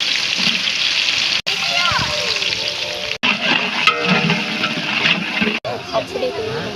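Onions hit hot sunflower oil and fry with a continuous crackling sizzle, close and fairly loud, broken by a few brief dropouts and stirring clatter.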